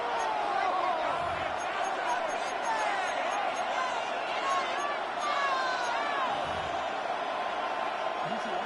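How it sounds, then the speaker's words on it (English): A stadium crowd in the Madden football video game fills the background with a dense, steady roar and scattered whistles and whoops, while commentary carries over the top. "The crowd making their presence felt."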